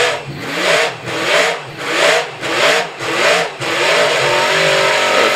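A historic racing car, rebuilt to original specification, revs hard at a hillclimb, its engine rising and falling through about six loud, close blips before settling into a sustained high-pitched roar.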